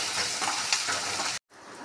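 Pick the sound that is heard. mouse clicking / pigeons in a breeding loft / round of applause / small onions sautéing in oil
small onions sautéing in oil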